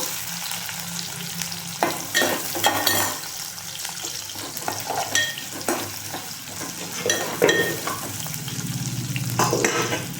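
Crushed shallots and onions fry in a pan for a village-style okra fry, giving a busy, continuous sizzle with scattered crackles and the scrape and clatter of stirring, close and fairly loud throughout.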